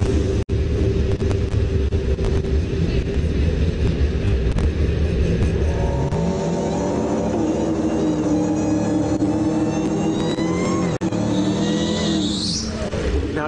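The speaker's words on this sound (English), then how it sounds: "See, that Dodge Demon is a pretty nasty car." A Dodge Demon roars loudly as it races, a heavy rumbling engine note that climbs in pitch through the gears toward the end, close and dominant with no talk.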